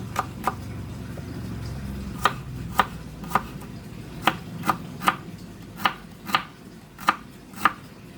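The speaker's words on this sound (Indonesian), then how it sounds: "Lalu potong-potong juga bawang merah." A knife chops shallots in a dozen or so sharp, close knocks at an uneven, unhurried pace over a quiet room background.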